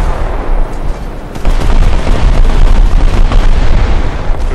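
A bomb dropped from an F4F-3 aircraft in War Thunder explodes in a loud, close, rumbling blast that swells after a brief dip and keeps roaring, with no talk.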